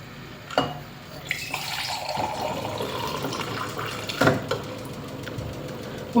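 Water poured into a blender jar of amla (Indian gooseberry) juice mix with salt, a steady splashing fill with a couple of sharper knocks, close and moderately loud.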